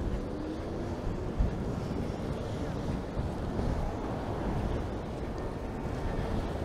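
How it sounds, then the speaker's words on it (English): Steady wind roars across a snowy Bay Street in Toronto on a February night, a dense continuous rush buffeting the microphone with low rumbling gusts and no clear pauses. "Wind is kicking up right now,"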